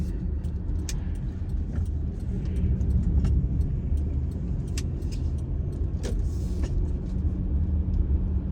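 A 2009 Honda Odyssey cruises gently along a back road, heard from inside as a steady low road rumble and engine hum, with small rattles and ticks scattered over the drive.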